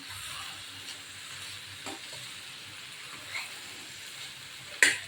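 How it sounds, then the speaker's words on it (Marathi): Flat beans (valpapdi) are stirred into a frying spice masala, giving a soft continuous sizzle with faint scraping stirs and a sharp clink near the end, quiet and close. "स्वच्छ धुवून घेतलेली आहे ती टाकायची आपण ह्याच्यामध्ये छान मिक्स करून घेऊया आपण मसाल्यामध्ये"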